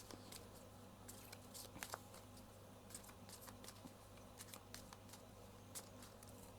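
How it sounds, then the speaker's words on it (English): A deck of oracle cards being shuffled by hand, heard as faint, quick papery riffles and soft clicks scattered irregularly over a steady low background hum, with no talking. "So let me just shuffle my clarifying deck here."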